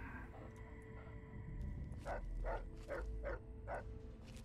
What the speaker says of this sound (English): Your barking is hell on my sneak.